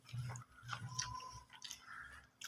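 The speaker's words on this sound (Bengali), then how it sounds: "খাচ্ছি, তারপরে মাছের ঝোল খাবো" Someone eats a fish head dressed with lemon, chewing softly and close with moist, squishy bites in uneven bursts against a quiet room.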